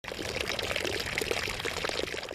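Water pours steadily from a nasone, one of Rome's cast street drinking fountains, a dense continuous splashing rush, close and loud with no voices.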